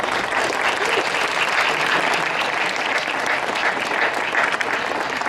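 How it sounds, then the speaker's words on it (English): Sustained applause from an audience at an event for cyclists riding across Canada for prostate cancer, steady and dense throughout with no gaps. "And our hats and applause goes out to them."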